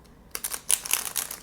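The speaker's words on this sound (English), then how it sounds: "I'm just going to get one good shuffle before I cut this deck" A deck of tarot cards being shuffled, giving a brisk run of crisp riffling clicks and flutters, close and fairly quiet with no talking.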